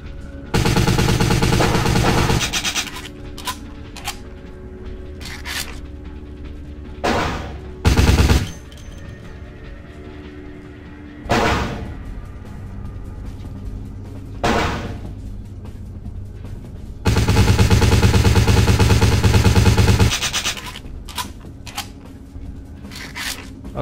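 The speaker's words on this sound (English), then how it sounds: "Okay, that's one source of gunfire done with." Gunfire in the video game Vampire The Masquerade - Bloodlines comes in loud sustained automatic bursts separated by single sharp shots and quieter gaps.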